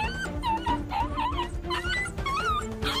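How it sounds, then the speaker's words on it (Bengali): A dog yelps and whimpers after being struck, a rapid series of high, wavering cries and yips close by, continuing without pause. "চিৎকার করতে থাকে লালি।"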